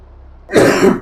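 A man coughs and clears his throat once, a short loud burst close to the microphone after a quiet moment, his voice tired from hours of talking.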